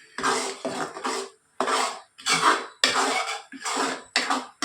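A spoon scraping and stirring thick tomato thokku in a pan, heard as repeated bursts of close, fairly quiet scraping separated by short pauses, with no talking.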